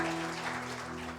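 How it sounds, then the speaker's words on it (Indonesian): A church congregation claps for Jesus, a soft, steady patter of applause that sounds distant and fairly faint over a low background hum, with no one speaking. "Tepuk tangan bagi Yesus."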